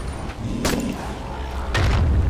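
Gunshots aimed at zombies in the Dying Light video game: two separate heavy, booming shots about a second apart, close and loud, with a low rumble lingering after the second.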